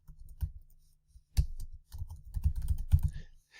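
Keyboard typing in short bursts of close, crisp key clicks on a computer keyboard, with brief pauses between runs of keystrokes, heard alone with no talking.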